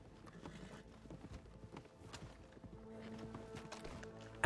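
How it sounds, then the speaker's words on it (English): Horse galloping past in RedM, the Red Dead Redemption 2 roleplay game, with rapid hoofbeats over a busy game soundscape of layered tones and ambience, fairly steady and moderately loud, with a sharp burst at the very end. "Because horse running by."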